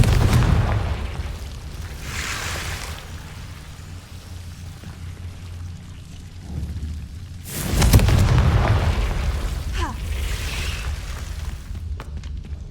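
Fiery blasting-spell explosions in the Hogwarts Legacy video game: two heavy booming bursts with rumbling decay, the second louder around the middle, amid game ambience and no speech.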